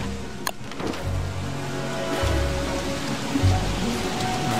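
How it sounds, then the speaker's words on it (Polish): Steady rain patters in the game Don't Starve: Shipwrecked over a low background rumble, with a few mechanical clicks and creaks. "O nie, pada."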